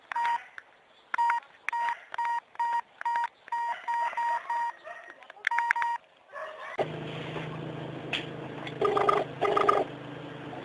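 A telephone rings in repeated short bursts with even gaps between them, fairly clear and alone, then gives way to a denser, humming background with scattered tones.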